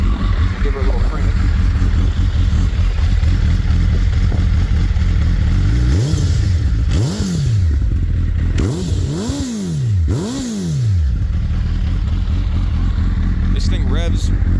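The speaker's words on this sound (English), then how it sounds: "Real throaty exhaust with the Yoshimura here" A 2001 Suzuki Hayabusa GSX1300R with a Yoshimura exhaust idles with a throaty rumble, then barks through four quick, sharp throttle blips close by before dropping back to idle.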